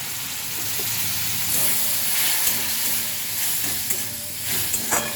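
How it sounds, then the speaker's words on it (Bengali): Spice masala for a skate fish kosha (Sankar macher kosha) sizzles and hisses steadily in the pan as a little water is added, a continuous broadband frying sizzle with light stirring scrapes and no talk. "এবার মশলাটার মধ্যে জল দেব। অল্প জল দিয়ে কষাবো।"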